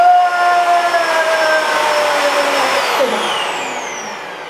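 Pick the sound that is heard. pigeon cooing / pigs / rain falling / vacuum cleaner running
vacuum cleaner running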